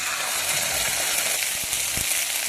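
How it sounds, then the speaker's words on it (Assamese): Sliced onions with ginger-garlic paste fry in a hot pan, giving a steady close sizzle with a few soft stirring knocks and no talk. "পিঁয়াজখিনি অলপ ভাজি লওঁ, ৰংচোৱা কৰোঁ, কৰি তাৰপিছত আদা নহৰুৰ পেষ্ট দিছোঁ"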